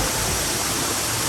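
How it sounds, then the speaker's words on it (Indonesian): A jungle waterfall roars as a steady, dense, full-band rush of falling water. It is loud and continuous with no voices over it. "Ini mah The Secret Waterfall."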